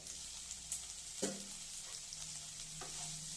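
Sheem beans fry for shim bhaja in a pan, heard as a soft, steady sizzle with a few faint clinks and scrapes of stirring, quiet and close, with no voices.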